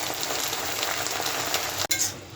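Jute leaf greens frying in hot oil, a loud, dense, continuous sizzle with a crackling hiss, broken by one brief dip near the end before the sizzling resumes.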